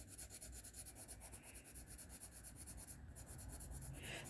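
An eraser rubs back and forth on drawing paper in a steady, soft, close scratching rhythm that runs without pause.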